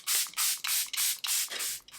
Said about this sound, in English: I do want to set my face one more time with the Charlotte spray